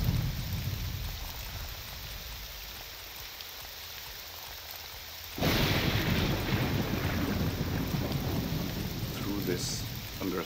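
Heavy rain and thunderstorm ambience in the game Morrowind, a steady wash of rainfall that swells sharply louder halfway through as the storm intensifies, with no talk.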